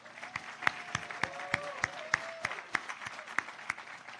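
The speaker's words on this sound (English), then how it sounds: "will you please give a round of applause to Christine Garcia" An audience applauds for Christine Garcia at The Wall Las Memorias event, with steady, evenly spaced claps ringing out sparsely in a room, while faint voices carry underneath.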